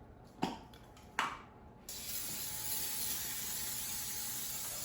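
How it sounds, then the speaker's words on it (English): After two sharp clicks, an aerosol spray hisses continuously and steadily at close range until the end. "I'm going to spray the inside of the pan with a non-stick cooking spray"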